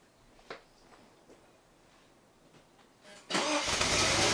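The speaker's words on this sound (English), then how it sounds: "cold start on the 1972 Mercedes 280 SCL" A 1972 Mercedes 280SEL engine cold-starting on a very cold morning: a few faint clicks and a short crank, then it fires up abruptly and runs loud and rough near the end.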